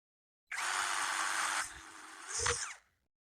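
A brushless cordless drill, Keelat KCD013, in drill mode whirs at high speed for about a second, then slows as the trigger eases, followed by a brief second burst before stopping.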